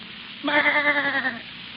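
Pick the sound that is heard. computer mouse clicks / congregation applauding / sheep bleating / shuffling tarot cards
sheep bleating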